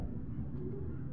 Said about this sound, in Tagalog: Ito mga kalapatids, si Pula o.